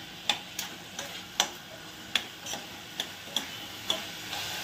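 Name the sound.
mutton sautéing in oil on high flame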